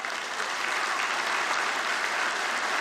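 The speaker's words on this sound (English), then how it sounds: "Give yourself a round of applause." Graduates of the 2017 Mohawk School of Human Services class applaud at their convocation ceremony, a dense, steady wash of clapping from a large crowd that holds at an even level throughout.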